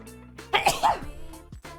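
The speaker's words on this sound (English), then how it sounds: "Oh, that was not a cute sneeze." A character in Persona 3 Portable lets out one sharp, forceful sneeze in the middle of the clip, over a soft, steady musical background.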